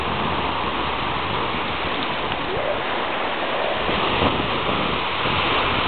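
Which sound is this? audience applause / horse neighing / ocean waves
ocean waves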